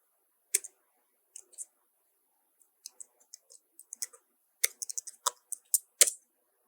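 Sharp computer mouse clicks in the Unity game engine, scattered singly and in quick bursts including double clicks, close and clear over a silent background.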